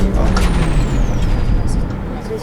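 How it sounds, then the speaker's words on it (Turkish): A city bus in Berlin releases a loud close hiss of air brakes, a broad steady rush that fades slightly toward the end, with a thin whine above it. "Bak freni basacağım"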